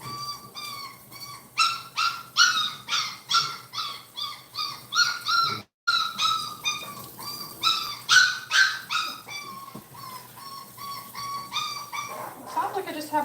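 A puppy yelps and cries repeatedly while being bathed at a kennel, with rhythmic, high-pitched squeals that come in steady bursts and pause only briefly.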